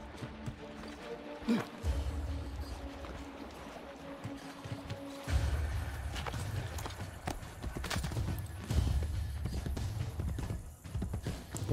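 Horse hooves clip-clop at a steady walking rhythm in Assassin's Creed: Brotherhood, moderately loud and close, with a low rumble of game ambience beneath and brief pauses between stretches of steps.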